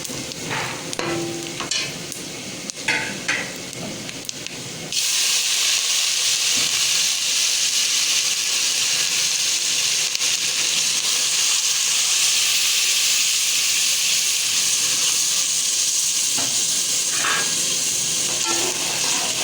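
Spices and ginger garlic paste go into half-browned onions frying for chana pulao, setting off a loud, steady sizzle and hiss that continues throughout, with light stirring and utensil clinks at the start.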